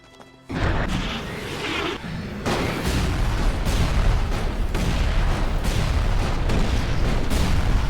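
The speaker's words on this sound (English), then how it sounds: "Let's just grenade them for now." Heavy, booming grenade blasts in the game ELEX II, loud and dense, one large burst near the start followed by repeated overlapping detonations and crashing impacts that fill the whole stretch.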